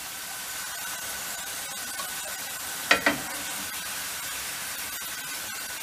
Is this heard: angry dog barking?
no